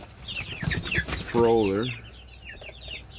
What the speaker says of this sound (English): my gut's telling me it's a rooster